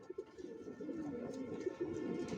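Racing pigeons with tagged legs, of an original Johnson racer line, coo in soft repeated throaty calls close by, with a faint background hum.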